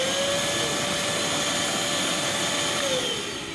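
A Mayaka vacuum cleaner runs steadily at maximum power with a loud, close whine and a constant airy roar. The pitch eases slightly toward the end.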